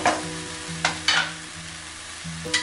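Pasta stirred into sauce with spinach and fresh coriander in a pan, giving a few scraping spoon strokes over a low steady sizzle, close and fairly quiet with no talking.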